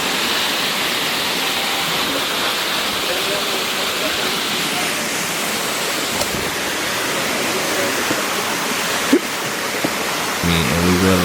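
A large waterfall in the Costa Rican jungle pours with a steady, dense, close roar that fills the whole scene, with a voice briefly heard at the end.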